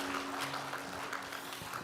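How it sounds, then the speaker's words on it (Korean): A church congregation applauds the choir during a Sunday worship service, a steady patter of many hands clapping at moderate distance for a short burst, fairly soft and even. "우리 찬양대를 위해서 격려의 박수 올려주시고요"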